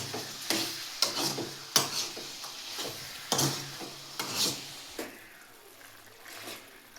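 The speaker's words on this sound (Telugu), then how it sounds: "ఇప్పుడు దీన్ని కాస్త అడుగు కంటకుండా కలిపేసుకున్నాం. ఎందుకంటే చికెను అతుకపోద్ది కదా గందులకు." Yogurt-marinated chicken being stirred in a pan, a soft sizzle under repeated scraping strokes of a spoon against the pan bottom, fairly quiet and close.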